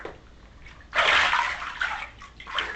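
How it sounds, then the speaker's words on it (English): Water sloshes and splashes in a bathtub, a sudden surge of movement followed by gentler swishes and another slosh, fairly close and moderately loud in an otherwise quiet room. "you hear water splashing"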